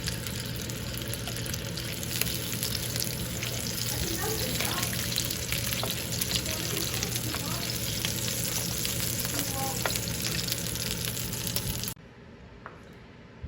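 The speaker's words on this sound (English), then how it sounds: "Lightly fried sausage." Sausage sizzles steadily as it fries in a pan while a Vietnamese pizza is made. The frying is loud and continuous, broken by faint clinks and stirring, and it cuts off abruptly near the end to a quiet room.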